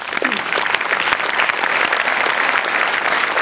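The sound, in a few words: audience applause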